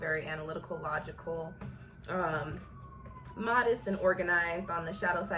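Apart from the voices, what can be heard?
sirens outside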